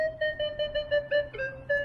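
A Minelab Equinox 800 metal detector with a 15x12 inch coil gives a negative signal, a steady electronic tone pulsing in quick repeated beeps over a nail test board, wavering slightly in pitch, close and clear with no voices.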